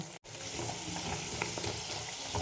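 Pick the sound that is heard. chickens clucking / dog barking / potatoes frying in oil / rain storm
potatoes frying in oil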